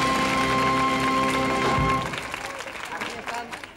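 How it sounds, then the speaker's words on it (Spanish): Studio audience applause at a 1970s Spanish children's television show, dense and steady for about two seconds over music, then thinning to lighter scattered clapping beneath a speaking voice. "¡Aplauso para él!"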